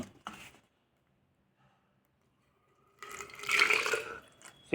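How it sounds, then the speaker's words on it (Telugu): Water pours from one bottle into an alkaline water bottle: a brief splash at the start, near silence, then a louder gurgling stream running close for about two seconds until the end. "అదే బాటిల్లోని వాటర్ మన ఆల్కలైన్ బాటిల్లోకి పోద్దాం"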